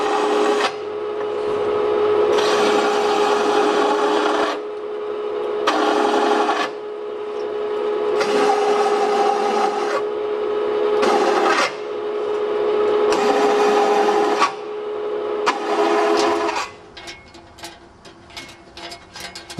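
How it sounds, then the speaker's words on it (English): Metal plates are countersunk for rivet heads at a waterways museum: a loud, steady grinding drill whine comes in repeated long passes separated by short pauses, then gives way to rough scraping clatter at the end. "Then countersunk to accommodate the rivet head."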